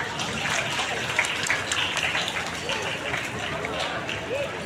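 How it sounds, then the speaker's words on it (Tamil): A book fair audience in Nagapattinam claps at a speech event, a dense, continuous wash of many hands ringing out evenly across the whole stretch. "ஒரு பெரிய கைத்தட்டல் கொடுத்துடலாம்."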